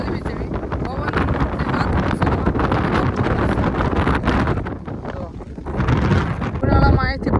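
Strong wind at Munjiyasar dam buffeting the microphone in loud continuous gusts, with people talking underneath.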